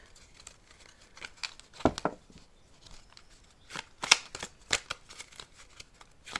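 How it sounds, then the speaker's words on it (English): An oracle card deck is shuffled by hand close up, giving short, irregular bursts of crisp card rustling and flicks. There are a couple of sharper snaps, and no one talks. "I'm going to go ahead and get an oracle card here to end the read"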